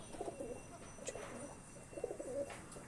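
Several pigeons coo in low, soft murmuring bursts, a pair of clusters a second or so apart, fairly close but quiet, with faint chirps and background hiss around them.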